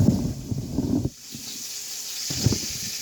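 Jalapenos frying in oil and butter in a skillet give off a steady hiss and sizzle, broken by louder bursts of crackling at the start and end.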